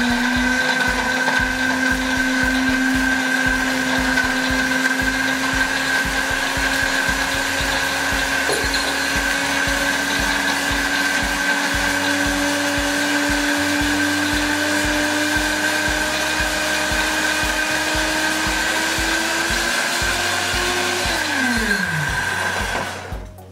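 A blender runs steadily for a long stretch whirring a green detox juice of greens and berries, loud and close with a constant motor hum, then spins down at the end. No talking.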